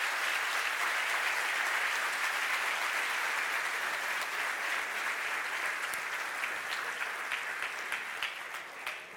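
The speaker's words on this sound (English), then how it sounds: "Let's give the crowd a big hand." Sustained audience applause fills the room at a leadership conference event, steady and dense throughout before thinning slightly at the end, with no voices over it.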